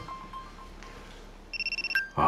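A telephone rings with a rapid electronic trill, a burst of repeated pulsing tones that ends in a sustained beep, followed by a loud noisy clatter as it is picked up.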